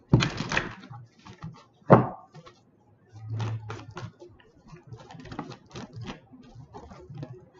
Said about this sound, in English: I've shuffled them, but I'll shuffle them again